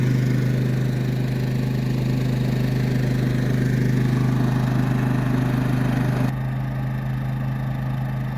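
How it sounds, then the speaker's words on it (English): A portable generator runs at a desert camp in Quartzsite, Arizona, a loud steady mid-pitched engine drone with a low hum throughout, its tone shifting slightly near the end, no voices. "We're going to have to run the generator today."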